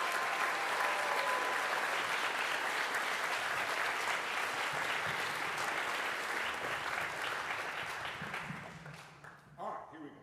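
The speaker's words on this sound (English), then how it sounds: "Please give a round of applause to Dean Andrew Davis." Sustained applause from a concert audience greeting Dean Andrew Davis, a broad even wash of clapping that holds steady for several seconds before thinning and fading out at the end.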